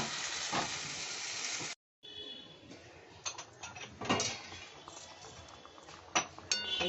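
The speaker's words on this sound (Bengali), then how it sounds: "গরম জল দিয়ে দিলাম মাংসটার মধ্যে" Hot water poured into a pan of chicken in tomato sauce sets off a loud, broad sizzle and hiss with steam. A brief silent gap follows, then steady frying crackle with a few sharper spits, no voices.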